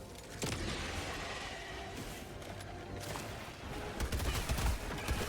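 Helldivers 2 combat against bugs, with a grenade pistol and rapid gunfire: a dense, continuous barrage of shots and booms that swells louder toward the end, with no talk.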